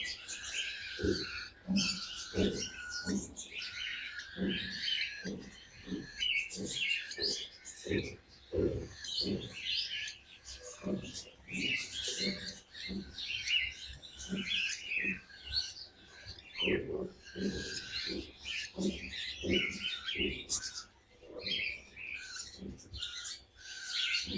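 Cockatiels chirp and squawk at a busy bird market, with rapid repeated calls close by and layered over a crowded background, while people talk nearby throughout.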